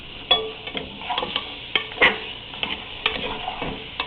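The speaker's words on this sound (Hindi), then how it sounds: "इसको आपने खूब अच्छी तरह भूनना है तेज़ आंच के ऊपर।" Chicken nihari masala being stirred on high heat, with a spoon scraping and clacking against the pot in scattered strokes over a faint, steady sizzle close by.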